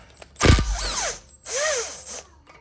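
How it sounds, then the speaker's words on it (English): A tool drives a 19 mm socket to remove a nut on the outer tie rod end of a 2013 Nissan Altima SV, making two loud, close whirring bursts separated by a brief pause. "So this is size 19 socket. Let's go ahead and remove that."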